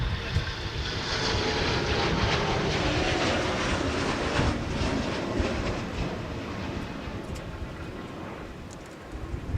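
Airliner landing in gusty crosswind on runway 22 at Minneapolis–St. Paul Airport, a loud, steady broadband engine roar with rushing air noise sustained throughout, heard alone without talk.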